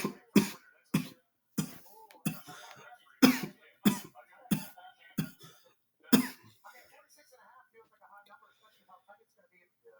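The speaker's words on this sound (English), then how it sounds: "gotta loosen up that cough" A string of harsh, close coughs and throat clearing in quick succession, trailing off into quiet mumbling near the end.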